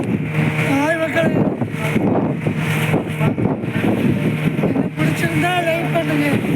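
Fishing boat engine droning steadily while heading out to sea by moonlight at night, loud and continuous with wind buffeting the microphone and people talking over it throughout.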